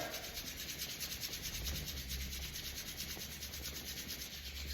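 Palms rub together quickly under pressure, giving a steady, continuous close-up friction hiss with no pauses and no talking.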